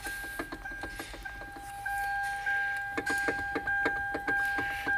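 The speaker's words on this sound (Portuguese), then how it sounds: "esse barulho aqui, galera, é uma bucha que vai dentro do motor elétrico ali" Worn bushing inside the electric power steering motor of a Hyundai or Kia car, heard up close as a series of short rhythmic knocks and rattles, with a steady electronic tone running underneath.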